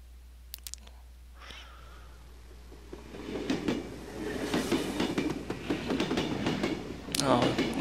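Train rolling along tracks in the horror video game Cry of Fear, a quiet rumble that swells into a loud rattling clatter of wheels and carriages, with sharp clicks and a bright screech near the end.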